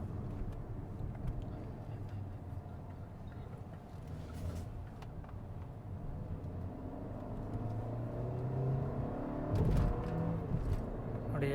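A Hyundai Creta N Line pulling away under acceleration, its engine drone building steadily and swelling louder near the end over road and cabin noise.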